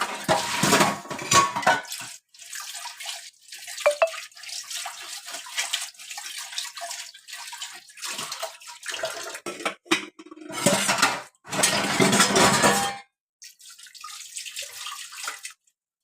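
Dishes are washed under a running kitchen tap, with bursts of splashing water and clinking pots, pans and cutlery that start and stop in uneven stretches, close and fairly loud, with no talking.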